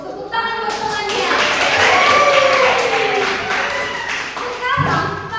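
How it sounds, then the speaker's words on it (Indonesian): Classroom of children clapping for a classmate, a dense continuous patter of hands lasting several seconds, with children's voices chattering over it. "Tepuk tangan buat temannya."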